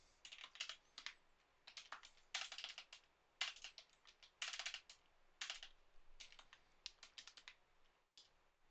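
Rapid bursts of crisp, close keystrokes on a computer keyboard while coding in Visual Studio, arriving in uneven clusters with brief pauses and one short silence near the end, with no speech.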